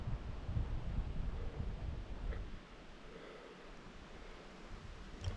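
Breezy wind gusts across a sunny hiking path lined with ferns, a soft broadband rush and rustle buffeting the microphone, stronger at first and then easing.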